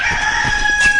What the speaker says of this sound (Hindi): थोड़ा आगे चलने पर उनको एक उनकी दोस्त पिंकी मुर्गी मिलती है